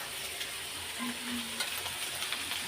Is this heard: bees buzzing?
no